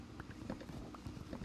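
Horse hooves clip-clop in Minecraft, a quick run of soft, muffled thuds at a steady trotting pace, close and fairly faint.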